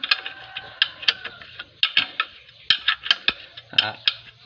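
A wrench tightens a bolt on the front axle pin of a Yanmar tractor, a close run of quick metallic ratcheting clicks and clinks in uneven bursts.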